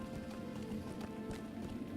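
Horse hooves clip-clop at a steady running pace in the video game LOTRO, a continuous rhythmic patter of taps over a busy game background.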